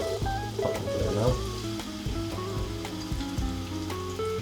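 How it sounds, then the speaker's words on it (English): Onions sizzle as they hit hot oil in a pan for a mushroom curry, a steady close frying hiss with a few clinks, while a voice talks over it. "So I'm going to add the onions to the oil"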